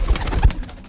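Male pigeon giving a short, low, muffled coo while being caught by hand, close by and brief, with a soft rustle.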